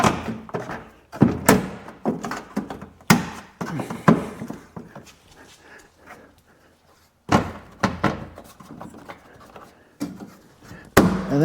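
A rear fender inner liner on a Jeep Gladiator is pushed and banged into place, giving a series of loud, hollow plastic thumps and knocks in irregular bursts with quieter pauses between them.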